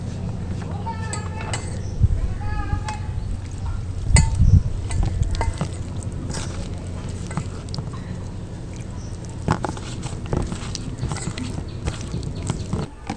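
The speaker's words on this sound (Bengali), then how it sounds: "ময়দাটাকে ভালো করে মেখে নিচ্ছি।" Flour batter with potato and dry ingredients being mixed with water by hand, producing soft wet squelches and sticky stirring sounds, a few clinks against the bowl, while a voice talks over it.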